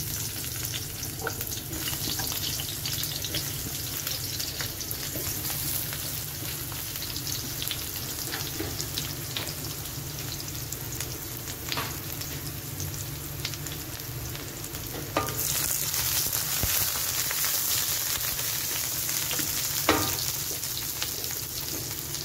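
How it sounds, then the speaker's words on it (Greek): Eggplants sizzle steadily in a hot pan as they are sautéed, a continuous close frying hiss with occasional clicks of stirring, and the sizzle grows louder partway through. "πάμε να τσιγαρίσουμε τις μελιτζάνες"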